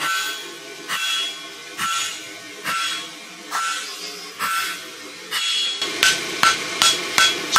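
Metal hammer strikes on rusty horseshoes being forge welded, about a dozen sharp clangs at a steady pace, quickening into rapid blows near the end; close and loud with no talk.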